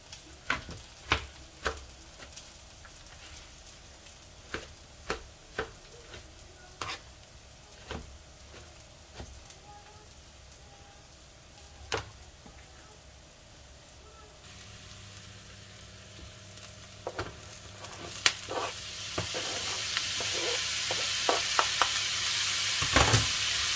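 Mushrooms fry in a pan for an omelette, a steady close sizzle with scattered clicks and scrapes of stirring, the frying growing louder and hissier toward the end; no one speaks.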